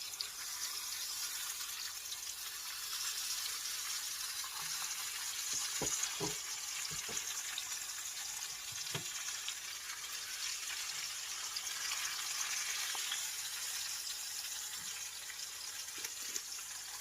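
Ginger and garlic fry in hot oil in a home Kerala kitchen, giving a steady, close hiss and sizzle that runs unbroken, with a few faint clinks and taps from the pan and no talk.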